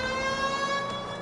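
Police car siren in the video game L.A. Noire, a steady sustained wail heard briefly and loudly, with no talk over it.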